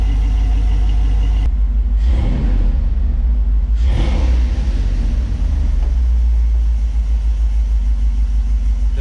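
A Dodge 5.2L/5.9L Magnum V8 fitted with shorty headers idles out the back, a loud, deep, steady exhaust rumble that keeps going throughout, with a couple of brief blips in the middle.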